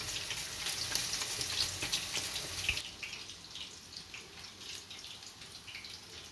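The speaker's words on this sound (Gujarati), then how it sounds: "આપણે થોડીક વેફર તળાઈ ગઈ છે" Thin raw banana slices sizzle and hiss steadily as they fry in oil over a low flame, with a louder crackling burst that settles into a quieter bubbling.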